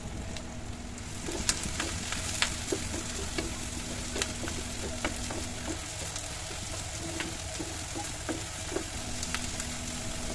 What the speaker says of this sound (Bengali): প্যানে দিয়ে দিচ্ছি এখানে সরিষার তেল আর দিয়ে দিব রসুন এবং পেঁয়াজ কুচি